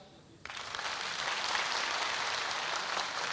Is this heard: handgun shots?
no